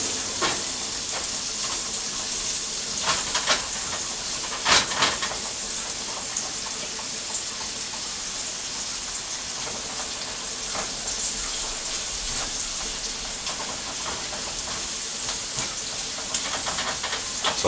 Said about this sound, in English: So I'm just sweating those onions.